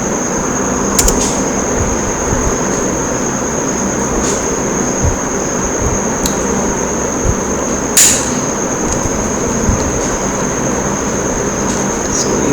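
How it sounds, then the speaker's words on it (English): A stepper motor driven by a Beaglebone Black runs through a full 360-degree rotation, giving a steady whine with occasional sharp clicks and ticks over a continuous hum, no voices present. "this stepper motor is rotating in 360 degree"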